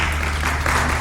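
A brief burst of applause from a conference crowd at an internet governance forum, steady and fairly loud throughout, with no voices standing out.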